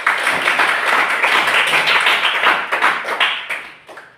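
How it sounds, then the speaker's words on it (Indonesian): A school class claps hands together in a lively burst of close, fairly loud clapping that tapers off toward the end. "Oke, kita tepuk tangan untuk kita."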